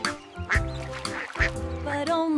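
Cartoon ducks quack in a short run of calls in a children's nursery rhyme, a few bright quacks with music running beneath them.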